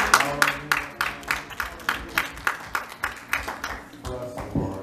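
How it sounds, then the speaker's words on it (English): Church congregation clapping in a round of applause, a steady rhythmic beat of many hands at moderate distance, with organ or music tones sustained underneath. "give the Lord and give yourselves a great big round of applause"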